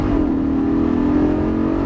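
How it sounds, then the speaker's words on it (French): A car engine drones loudly and steadily at high revs while accelerating on a race track at Dreux, a close, continuous in-car engine note with no other sounds. "On commence à élargir et on accélère. Allez, vas-y, gaz."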